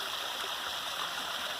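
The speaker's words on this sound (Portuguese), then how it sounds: "Fica com esse som dessa cachoeira maravilhosa aqui" A small waterfall inside a city gives a steady, close rush of falling water, an even hiss with faint gurgles, and no voices.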